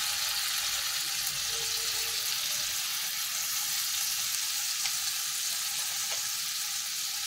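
Ginger-chili paste and coriander-cumin powder fry in a hot pan with a loud, unbroken sizzle that holds steady throughout.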